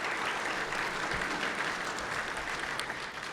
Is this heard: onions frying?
no